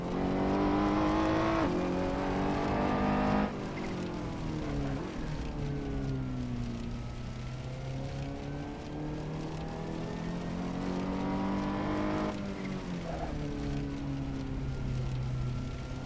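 A Ferrari race car engine in the Goodwood Festival of Speed VR game, loud and close, revving and holding a steady drone with gear changes that drop the pitch, then climbing again near the end.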